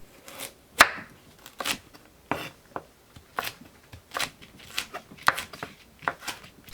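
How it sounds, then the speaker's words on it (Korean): A knife chops a carrot on a cutting board in sharp, irregular close taps, roughly a dozen distinct strikes with quiet gaps between them and no talking. "당근을 썰어 주세요"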